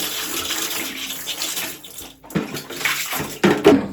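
Water splashing as a face is rinsed after face wash, with uneven splashes and running water over a couple of seconds, fairly close and loud.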